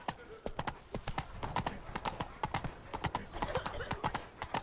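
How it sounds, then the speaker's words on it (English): A horse's hooves clip-clop at a steady trotting rhythm in the video game Witcher 3: Blood and Wine, close and crisp, with a brief voice in the background. "Giddy up."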